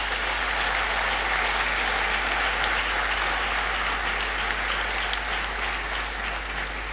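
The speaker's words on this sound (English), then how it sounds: "he deserves a big round of applause" Sustained, steady applause from a large audience at a university degree congregation ceremony in a great hall, dense and even throughout with no voices over it.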